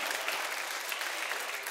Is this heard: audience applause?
yes